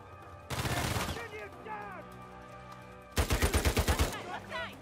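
A Copperhead gun in Uncharted 4 fires in two rapid bursts, the second with clearly pulsed, evenly spaced shots, loud and close, separated by a quieter stretch of game effects.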